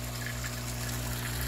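Water trickling from a refinished whiskey cask converted into a plumbed waterfall in a backyard koi water garden, a steady soft splashing flow with a low hum beneath, alone and continuous.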